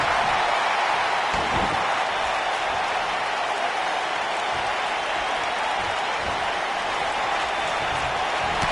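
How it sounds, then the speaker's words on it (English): An arena crowd in the WWE 2K19 wrestling video game, at a pay-per-view event, keeps up a dense, steady roar of cheering throughout, loud and continuous with no breaks. "I don't remember the last time I heard a more passionate crowd than the one we have here tonight"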